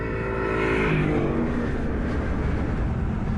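An Aston Martin Vantage S V8 sports car with a remapped exhaust bypass revs hard, a loud close engine roar whose pitch climbs then settles into a rough, steady rumble.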